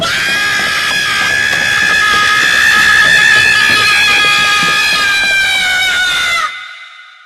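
In a horror audio story, a person runs past screaming: one long, loud, high-pitched wail held for several seconds that swells slightly and then cuts off sharply into silence.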